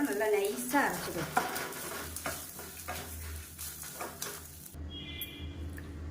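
Grated coconut stirred in a hot pan for a Thiruvathirai seven-vegetable kootu, a spoon scraping through it with a light sizzle, the scraping rhythmic and close, then tapering into quieter background noise near the end.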